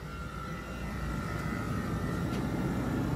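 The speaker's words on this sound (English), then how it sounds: "You can hear it start to come back." The AC compressor on a 2021 Jeep Wrangler 4xe runs with the blower on its lowest setting, a loud, steady whooshing drone that swells slightly partway through and then holds constant.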